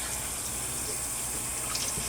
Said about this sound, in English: But I just rinse them real well, and then I'm going to put them over in this big pot.